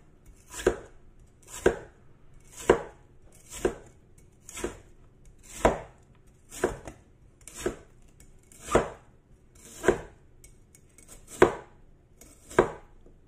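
A knife chops thinly sliced bitter gourd on a cutting board, about a dozen crisp, evenly spaced cuts, close and clear with no talk.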